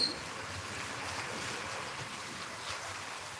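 Floodwater rushes across a road in heavy rain in Warangal traffic, a steady broad wash of water and rain noise with wind buffeting the microphone, continuous and close throughout.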